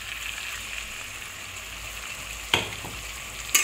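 Potatoes frying in hot oil in a pan, a steady close sizzle throughout, broken by two brief sharp knocks near the end.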